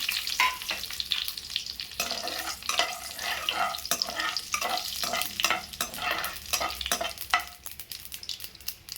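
Mustard seeds and four dried red chillies frying in a little oil for a brinjal (eggplant) kuzhambu, with steady close sizzling, popping crackles and stirring scrapes throughout, no talk.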